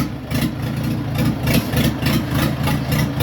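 A diesel engine idles nearby on a 2024 Orion RD404 tractor with a KM 490 engine, a loud low rumbling chug with a steady, slightly uneven rhythm.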